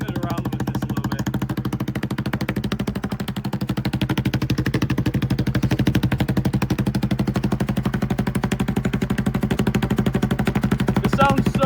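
A Honda CRF110 dirt bike fitted with a sprinkler tube exhaust rattles loudly and continuously as it is ridden, a rapid staccato popping that holds steady and close throughout with no talk.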